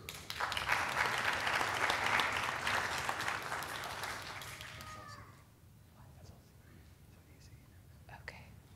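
An audience applauds at an engineering hooding ceremony, a dense burst of clapping that holds for about five seconds and then trails off into quiet murmuring and scattered sounds.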